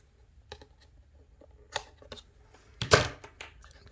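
Scissors trimming a paper liner for a handmade junk journal, a few sparse snips and crinkles building to a louder cluster of cuts and paper rustle near the end, close and quiet with no talking.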